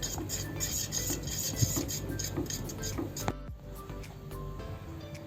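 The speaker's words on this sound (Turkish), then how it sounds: "Karıştırarak bitiriyoruz." A spoon scraping and rubbing around a pot of cocoa milk pudding with vanilla, a soft repetitive rasping stir close up, with a brief clink near the end.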